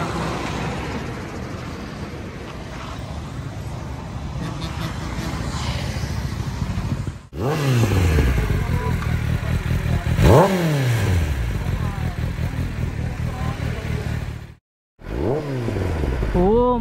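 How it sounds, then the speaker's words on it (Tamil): A Kawasaki ZX10R superbike fitted with an aftermarket exhaust revs loudly and close by, with a steady idle rumble broken by several sharp rising throttle blips and a brief cutout near the end. "அதுக்கு முன்னாடி ரெவ் பண்ணி காமிச்சிருங்க."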